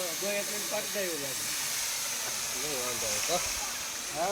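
Onion goes into a hot pan and sizzles with a continuous bright hiss, while people talk over it throughout.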